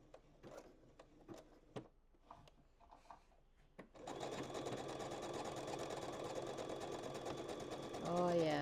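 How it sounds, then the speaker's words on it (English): A sewing machine starts after some scattered taps and clicks, then runs in a steady, even whir at a good pace for several seconds, growing slightly louder near the end while a voice speaks faintly over it. "Now we're sewing. And it's moving in a much better speed"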